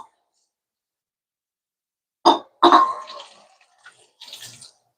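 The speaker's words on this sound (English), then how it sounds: "just rinse this bowl here" Water splashes briefly as a bowl is rinsed in a home kitchen after making chicken wing sauce: two short close bursts, then a few softer trickles and sloshes.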